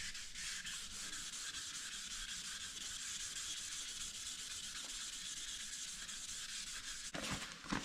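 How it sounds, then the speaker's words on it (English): Steady, continuous wet sanding on a painted motorcycle swing arm, an even close rasping rub that runs without pause until a brief shuffle of handling near the end. "it's hard to show people how to wet sand"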